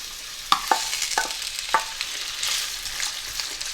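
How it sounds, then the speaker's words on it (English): Potatoes fry in hot oil for a Punjabi achari aloo dish, a steady sizzle broken by a few sharp utensil clinks and scrapes near the pan, with no talking. "So the oil is now hot, so I'm just going to add the potatoes just to fry them over."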